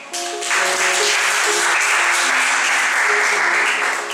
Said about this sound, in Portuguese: Aplaudam o Senhor.